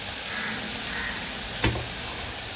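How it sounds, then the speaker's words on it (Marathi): Coconut karanji, stuffed with fresh coconut, frying in hot oil, giving a steady close sizzle with a brief louder crackle partway through; no one speaks. "आता आपला तेल चांगला तापलेला आता त्याच्यात ना एक एक करंजे आपण सोडून घेऊया"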